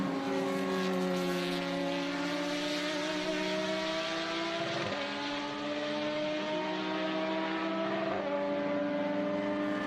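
A Trans Am race car engine at Road America drones at sustained high revs, smooth and steady, with a couple of brief dips in pitch as it passes or shifts.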